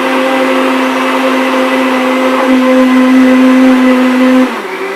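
An electric blender runs loud and close while mixing a protein shake with flax seed. Its motor holds a steady whir, shifts pitch partway through, then winds down near the end.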